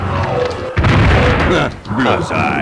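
Gunfire and explosions from Duke Nukem on the PS1 boom loudly in quick bursts throughout, with a player talking over them.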